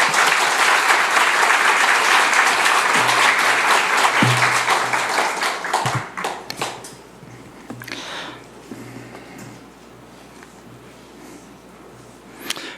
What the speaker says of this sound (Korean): 다시 한번 박수로 환영해 주시기 바랍니다